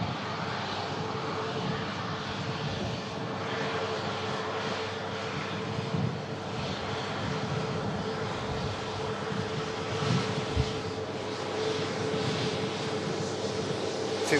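An airliner taxiing at an airport, its engines giving a steady, continuous drone at a moderate distance that holds throughout with little change.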